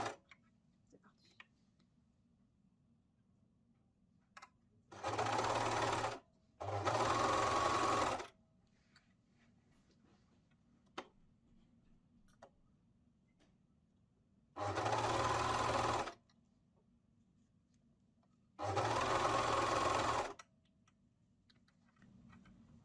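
Sewing machine stitching a Georgia garment from an Urban Fairy pattern, running in four short bursts of one to two seconds, two close together then two more after a long quiet gap with faint handling sounds.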